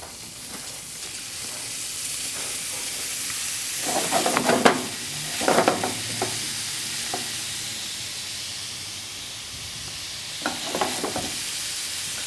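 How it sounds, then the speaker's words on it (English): Diced wild boar sizzling in hot olive oil in a pan, a steady hiss with bursts of louder crackling and stirring scrapes around the middle and near the end, no voices. "Now that we have our wild boar diced, we're going to add it to our pan here with a little hot olive oil."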